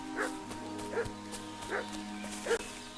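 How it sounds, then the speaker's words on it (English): A dog in the medieval village of the video game Kingdom Come: Deliverance II gives four evenly spaced yappy barks at a moderate distance, set over a low steady ambient drone and hum. "What's that dog making such a fuss about?"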